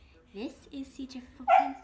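A pet dog gives a short bark under a person's speech, close to the microphone, in a brief indoor moment.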